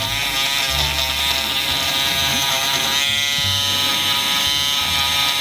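An electric eraser buzzes steadily as it's moved back and forth over embroidery stitches on a hat to strip them out, a loud continuous motor whine held close for several seconds.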